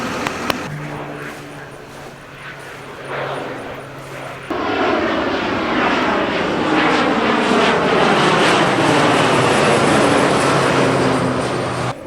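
Low-flying crop-spraying airplane buzzing overhead near a Hagie sprayer demo, its engine roar swelling suddenly to a loud, sustained drone that fills the rest of the pass after a quieter stretch with faint talk and machinery.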